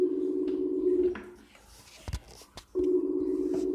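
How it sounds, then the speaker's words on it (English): A telephone rings twice through an earpiece, each long steady tone separated by a gap, with low chatter and a few clicks in between. "It's ringing."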